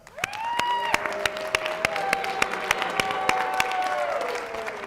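Audience applause fills a hall at a city mayoral forum, steady clapping swelling quickly and holding loud and close, with some crowd noise and scattered sharp claps standing out.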